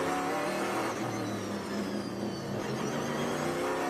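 Trans Am race cars forming up behind pace cars on the long straightaway at Canadian Tire Motorsport Park make a continuous loud engine roar. Layered motors hum and whine at a steady level, with no talking.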